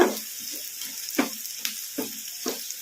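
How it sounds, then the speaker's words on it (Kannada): Onions and curry leaves fry in a pan, a steady hiss of oil with soft irregular clicks and scrapes from stirring, close and moderately loud, no talking. "ಉಳ್ಳಾಗಡ್ಡಿ ಗೋಲ್ಡನ್ ಬ್ರೌನ್ ಕಲರ್ ಬರೋವರೆಗೂ ಫ್ರೈ ಮಾಡ್ಕೋಬೇಕು."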